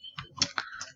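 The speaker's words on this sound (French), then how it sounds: "Donc vous entendez mon clavier, etc." A computer keyboard clicks in a quick, uneven run of taps over about a second, close to the microphone and moderately loud, with no speech over it.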